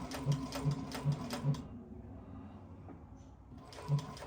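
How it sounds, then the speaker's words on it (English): Sewing machine stitching Tethrd Phantom hunting saddle material in a quick, even run of mechanical clatter close by, stopping for about two seconds before starting again. "I'm gonna have the machine on, and we'll sew a little bit here."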